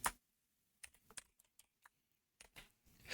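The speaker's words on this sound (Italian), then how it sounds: "dal suo interno andremo a digitare questa stringa" Keystrokes on a computer keyboard as a short command string is typed into the Windows Run box, a quick burst of close taps, a pause, then another burst ending with a final press.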